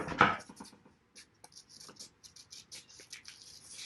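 Scissors cut a drawn design out of paper for a pop-up book, with a sharp snip followed by a series of soft, uneven snips and paper rustles close by.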